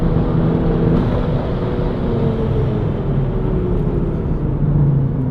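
Loud, continuous engine and road roar from a 280bhp SEAT Leon Cupra lapping a race track, heard from the cabin, with a steady pitch and slight rises and falls.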